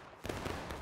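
A musket volley goes off in the Civil War battle game War of Rights: a sudden loud crack of massed shots that breaks into a rolling, echoing roar lasting the rest of the short moment, without voices.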